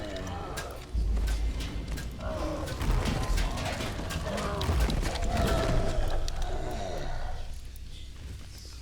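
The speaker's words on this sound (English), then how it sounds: "Ancient gears grind deep underfoot." Ancient gears grind deep underground in Dungeons & Dragons Online, a dense, continuous mechanical rumble with rattling and clanking that swells and then fades out near the end.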